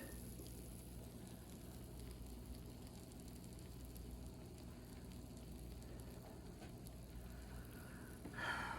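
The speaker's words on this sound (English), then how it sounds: "Still bubbling in the corner" A cheesy bean and rice burrito casserole fresh from the oven bubbles quietly in its dish, a faint, continuous low simmer and soft popping with a slightly louder burst near the end.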